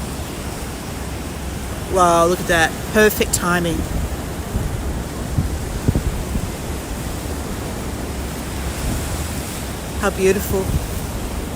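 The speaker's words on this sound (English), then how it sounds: "we have the waves breaking over the rock shelf." Waves breaking over a rock shelf at sunrise, a steady broadband wash of surf running the whole time, with a few short bursts of excited speech over it.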